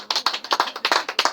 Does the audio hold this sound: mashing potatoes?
no